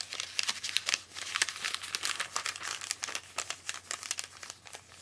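A sheet of paper is crumpled by hand, giving dense, crackling crinkles in quick irregular bursts with sharp snaps, close and steady throughout, with a low hum underneath and no voices.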